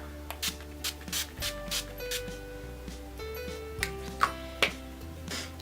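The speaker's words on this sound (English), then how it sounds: "I will go in with the Urban Decay All Nighter Spray and just spray my face" Several short sprays of Urban Decay All Nighter setting spray hiss onto a face in quick succession, each a brief burst of mist, with quiet tapping and background music underneath.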